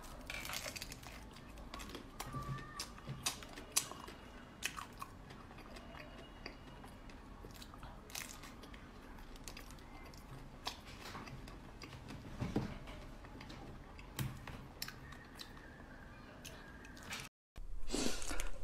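Ice and frozen grapes are bitten and chewed close to the mic, with sharp crunchy cracks scattered irregularly over a quiet background and the occasional clink of a dish or utensil.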